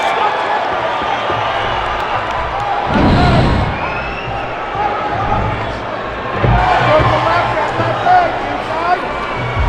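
An arena crowd roars and cheers as the Nate Diaz versus Clay Guida MMA fight begins, a dense wall of noise that surges twice while a commentator talks over it.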